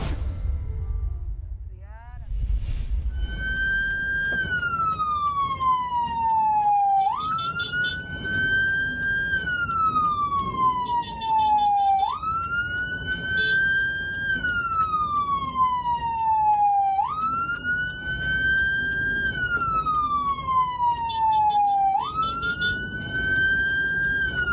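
An ambulance siren wails in a repeating rising-and-falling cycle, loud and near, sounding continuously through a traffic jam with a faint rumble of vehicles underneath.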